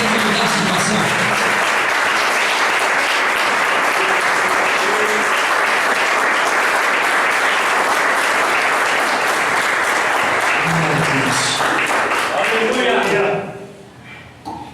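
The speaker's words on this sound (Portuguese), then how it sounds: "Você pode dar uma salva de palmas para ele" A church congregation at a Portuguese-language evangelical service breaks into loud, sustained applause for about thirteen seconds, thick and continuous with voices mixed in, then cuts off abruptly into near quiet.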